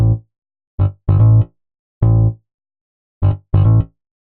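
A short keyboard bassline phrase for R&B and soul, with a quick flick or trill stepping from G up to A: six separate low, punchy notes in uneven groups with silent gaps between them, played alone.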